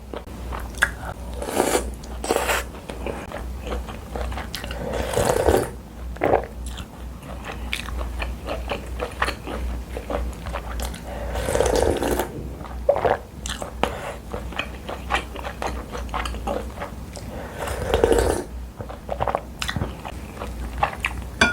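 Chicken offal soup being eaten up close, with wet biting, slurping and chewing repeating steadily throughout and a few louder crunchy bites standing out.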